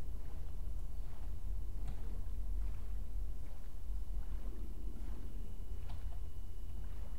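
Gentle, steady water lapping with soft splashes as a boat moves along in Minecraft, quiet and continuous with no voices.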